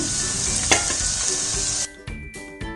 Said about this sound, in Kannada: ಈಗ ಇದನ್ನು ಎಣ್ಣೆನಲ್ಲೇ ಚೆನ್ನಾಗಿ ಫ್ರೈ ಮಾಡಬೇಕು.